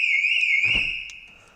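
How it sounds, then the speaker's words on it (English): A Porsche Cayman/Boxster 987 car alarm sounds a steady, piercing high electronic tone that holds briefly alone before trailing off, with a faint thud partway through. "Alarm goes off as well."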